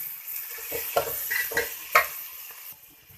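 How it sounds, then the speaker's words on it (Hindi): Turnip sabzi (moli shalgam) sautéing in a pan gives off a steady sizzle, with several distinct scrapes from a spoon stirring it, around three of them standing out clearly; no one talks. "अब इसको अच्छे से भूनेंगे तकरीबन 1 से 2 मिनट"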